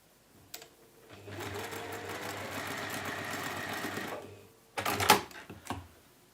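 A sewing machine stitching quilt pieces along a marked line across a corner runs steadily for about three seconds, close and moderately loud, then a few quick mechanical clicks and clunks follow.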